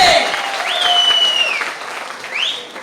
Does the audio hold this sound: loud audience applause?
yes